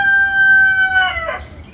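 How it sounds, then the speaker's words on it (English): A rooster crows from just beyond a wall, a single drawn-out call with a clear steady pitch that cracks and breaks off toward the end, close and fairly loud, with no talk over it. "my rooster. He's right on the other side of the wall."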